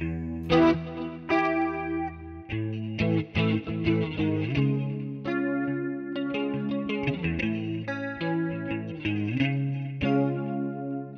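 Electric guitar through a Quad Cortex picking a chord pattern, an 80s compressed clean tone, bright and shimmering with a wide chorus effect, notes ringing and overlapping for several bars.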